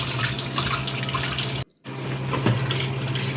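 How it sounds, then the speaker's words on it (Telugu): Tap water runs steadily into a kitchen sink in a home, a loud continuous splashing stream that cuts out briefly for a moment of near silence, then resumes at full strength. "సింక్లో వేసేది కొంచెం వాటర్ తిప్పేసానండి"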